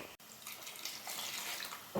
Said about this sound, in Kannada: ಎಷ್ಟು ಬೇಕೋ ಅಷ್ಟು ನೀರು ಹಾಕ್ಕೊಂಬಿಡಿ